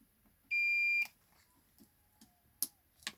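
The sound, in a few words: multimeter continuity beep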